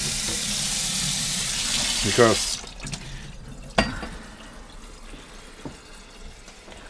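Water runs through a filter into a stew pot for beef stew, a steady rushing hiss that cuts off after a couple of seconds, followed by a few clunks and drips as a person speaks briefly.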